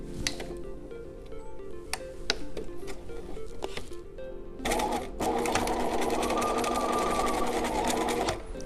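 A sewing machine stitches off-the-shoulder shirt fabric. A short burst of stitching is followed by quiet handling, then a long, steady, fast run of close, loud needle whirring.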